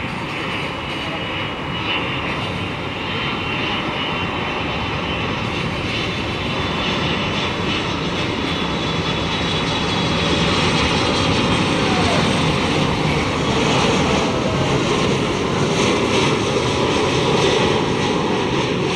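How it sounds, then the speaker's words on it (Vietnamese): A loud, sustained roar from a jet landing on runway 25R at Tan Son Nhat airport, holding steady and swelling near the end, with someone talking over it. "mời mọi người chiêm ngưỡng và hạ cánh của chiếc máy bay này xuống đường băng 25 phải sân bay Tân Sơn Nhất"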